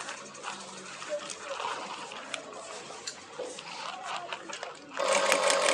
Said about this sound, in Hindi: ये इसके साथ से ही अभी हम सिलाई लगाएंगे